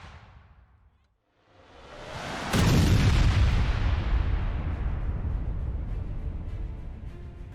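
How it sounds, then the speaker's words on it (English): Heavy artillery boom from a battle scene of the 1801 Battle of Alexandria, with British guns firing: a sudden loud blast followed by a long, rumbling low roar that lingers and slowly fades. "After restocking ammunition, British guns resumed firing."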